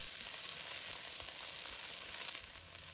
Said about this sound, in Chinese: 锅里留底油，把葱、蒜放入锅中，把它炒香